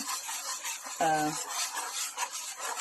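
A spoon stirs pineapple jam mixture as it comes to a boil in a pot, a steady close scraping and rubbing with broadband sizzle throughout, and a brief tonal clink near one second.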